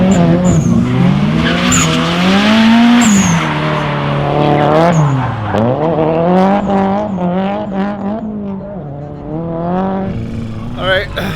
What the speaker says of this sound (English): Let's go drifting.